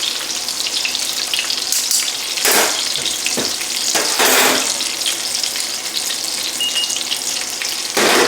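Fish pan-frying in hot oil sizzles steadily up close, with bursts of louder spattering and crackle as pieces shift in the pan.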